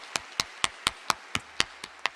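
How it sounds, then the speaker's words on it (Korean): Clapping at a church dawn revival service, about ten crisp, evenly spaced claps in a quick steady rhythm, fairly quiet and clean with no voices over them. "하나님께 영광의 박수 드리겠습니다"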